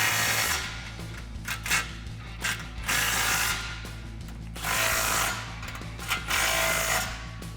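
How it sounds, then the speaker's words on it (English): A ratchet with a 15 mm socket tightens the exhaust clamps on a 2018-2019 Mustang GT Magnaflow cat-back exhaust. It gives several close bursts of rapid clicking, one per stroke, with short pauses between. "grab your 15 socket once this is seated all the way back and tighten down the clamps"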